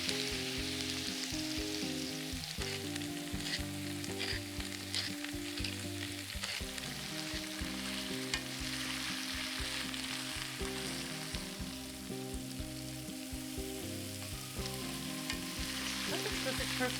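Red potatoes with their skins on and onions, seasoned with salt and pepper, sizzle and fry steadily in a pan, a continuous crackling hiss with occasional stirring scrapes and no talking.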